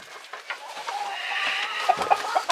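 Backyard chickens near a coop cluck and murmur softly close by, a low, steady run of chatter with a few sharper clucks toward the end and no talking.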